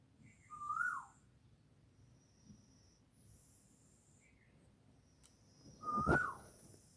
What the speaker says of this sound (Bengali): তোমরাও ডাকটা শোনো কোকিলের।